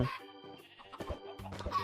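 Chickens on a Minecraft chicken farm cluck in short, close, repeated bursts, several birds overlapping in quick succession with no talking.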